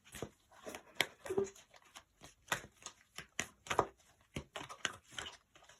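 Playing cards being shuffled in quick riffles, crisp flicking bursts repeating in a steady rhythm, close and fairly soft with no talking.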